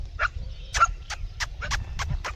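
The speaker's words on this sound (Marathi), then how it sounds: "तिकडनं बी टीम आली 2-3 कुत्र्यांची." Several village dogs bark in a rapid series of about eight sharp yaps, moderately close and fairly quiet, in an outdoor setting.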